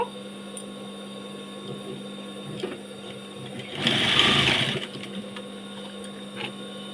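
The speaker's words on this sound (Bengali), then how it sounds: "দুধারে সেলাই দিয়ে নেব" A sewing machine runs in one short burst of about a second, stitching flowers onto both edges of a nightie, against a quiet room with a steady low hum before and after.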